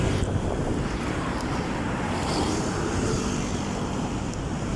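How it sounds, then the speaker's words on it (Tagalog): Strong wind roars continuously across the microphone at a construction site, a dense, steady rumble with no pauses and no voices. "Lakas ang hangin"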